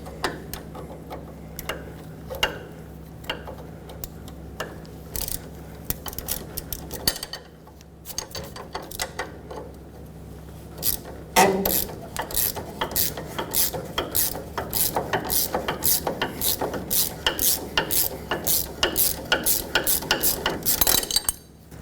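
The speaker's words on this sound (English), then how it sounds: "put a ratchet on the Allen and just hold the nut while you ratchet the Allen or the stud inward" A ratchet turns a sway bar link stud on a 1995-2004 Toyota Tacoma front suspension. Quiet at first, then a long run of fast, sharp, evenly repeated clicks sounds close, with no talking.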